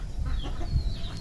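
Pet chickens give a short burst of soft, close clucking, brief and alone with no talk over it.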